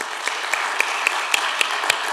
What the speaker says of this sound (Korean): 너무 기특하니까 자신을 위해서 박수 한번 하겠습니다.